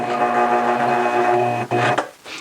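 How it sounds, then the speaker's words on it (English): A sewing machine running a hemmer foot along a T-shirt hem, a close, steady mechanical whir with a rapid even stitch rhythm that stops briefly near the end, followed by a couple of small handling sounds. "Let's sew up to the edge."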